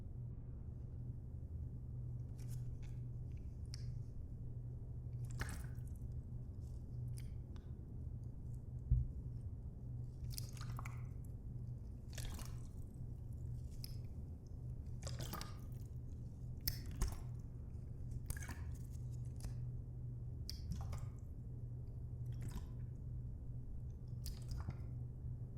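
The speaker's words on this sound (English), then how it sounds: "We'll start with the water bottle." Plastic water bottle handled and squeezed close to the microphone in a quiet room, a series of soft crinkles, squishes and crackles in irregular bursts over a faint low hum.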